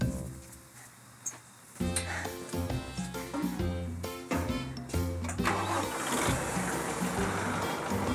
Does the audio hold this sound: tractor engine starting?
yes